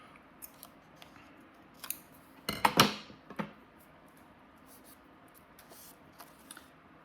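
Scissors snip through paper close by, a few sharp isolated cuts followed by a quick cluster of crisp snips, then quieter rustling handling.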